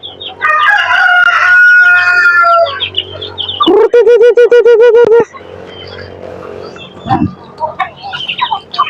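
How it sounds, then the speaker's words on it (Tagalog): A Brahma chicken rooster lets out one loud, close crow lasting over a second, framed by other fowl calls and some background voices. "Ito yung nag-iisang Brahma natin mga tropa."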